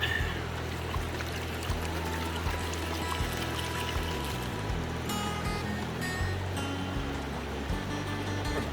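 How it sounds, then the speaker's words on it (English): Gold concentrates from bucket dredge barge tailings being panned in water toward black sand, with steady sloshing and trickling water, repeated swirls and pours close by, no voices. "Pan this down to black sand."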